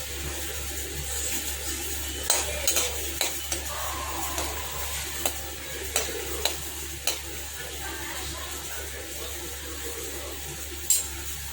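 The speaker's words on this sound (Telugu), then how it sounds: "వేరుశనగుళ్ళు కొంచెం ఫ్రై అవ్వనివ్వాలి." Peanuts fry in hot oil in a pan for an upma tempering, with a continuous soft sizzle broken by sharp scraping and clinking stirs of a spoon against the pan. No one speaks.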